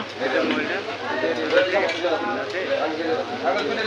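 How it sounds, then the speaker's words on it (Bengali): Chaap frying at a new market-town hotel restaurant kitchen, with clinking pans, utensil stirring and faint sizzle close by beneath someone talking. "চাপ ভাজা হচ্ছে, চাপ ভাজতেছে"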